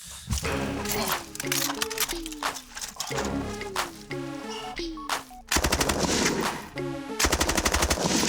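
Gunfire rings out on a shooting range at a shaving cream target downrange: rapid strings of loud, close shots in bursts with brief gaps, ending in fast volleys, while voices talk over the shooting.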